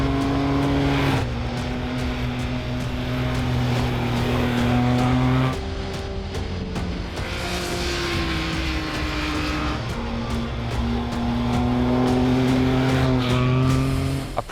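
A 2018 Triumph Speed Triple RS motorcycle is ridden hard on roads and track at Almeria, its engine droning loud and close with rising and falling revs and gear changes across a sustained run.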